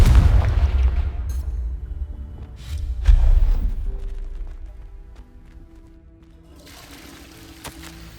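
A Confringo fire spell bursts in Hogwarts Legacy: two heavy booming blasts around the start and three seconds in, with low rumble and debris-like crackle fading into a quieter tonal background.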